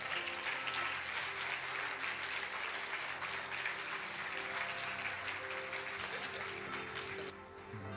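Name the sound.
applause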